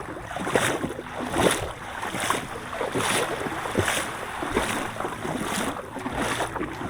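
Small wooden outrigger boat pushing through rough sea, with rhythmic bursts of wave slaps and spray roughly every second over steady wind and engine hiss, loud and close.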